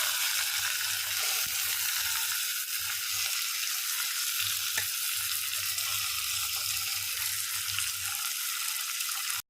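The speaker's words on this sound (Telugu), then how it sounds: "ఇప్పుడు నేను ఈ ఉల్లిపొరకు కూడా ఇలా వేసేస్తున్నా" Spring onion greens frying in a clay pot for red lentil dal, a steady broadband sizzle running throughout at close range with a low hum that drops in and out, no talking.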